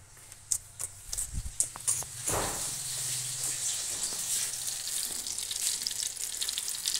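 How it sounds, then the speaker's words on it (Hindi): Food coated in gram flour (besan) frying in hot oil, a steady crackling sizzle throughout with a few louder pops and clatters early on, no talk. "बेसन लगा के हम फ्राई कर रहे हैं"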